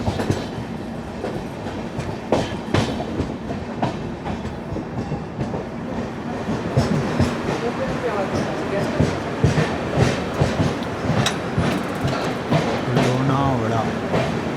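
16332 Express rolling into Lonavala station, a steady rumble of wheels and carriages with clicking rail joints, heard from on board at close range, with voices and station bustle mixed in.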